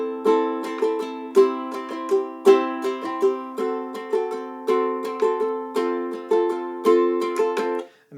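Ukulele strumming the chords of House of the Rising Sun in a lilting three-beat pattern, bright plucked chords ringing clearly and alone at a moderately brisk tempo.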